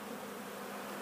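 Russian honey bees buzz steadily around a hive entrance, a dense continuous drone of many insects close to the microphone with no pauses.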